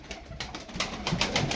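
Tumbler pigeons coo close by in a loft, a run of soft repeated calls that grow a little louder toward the end, with no talk.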